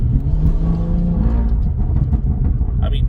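A BMW M140i rumbles with a deep, loud exhaust note, a steady low growl that swells slightly before settling, heard close with faint talk in the background.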